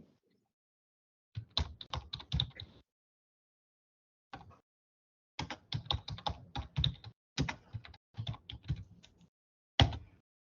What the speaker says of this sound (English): I'm just writing it in chat.